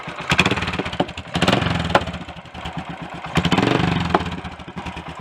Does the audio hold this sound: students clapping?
no